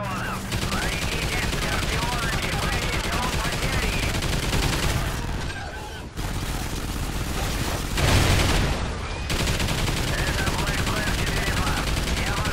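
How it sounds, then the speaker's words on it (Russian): Sustained rapid minigun turret fire in Call of Duty: Ghosts Extinction mode, loud dense bursts nearly continuous with two short pauses. "Турель с миниганом активна."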